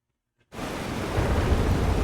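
A thunderstorm in the video game Life is Strange: Double Exposure breaks in suddenly after near silence, a loud dense roar of rain and rumbling that holds steady and swells slightly, with no voices.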